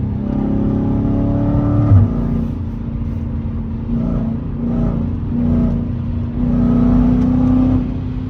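Dodge Challenger Scat Pack 392 with deleted catalytic converters, revving loud and close: a deep, raspy engine roar that swells and dips through several throttle blips, with no talking over it.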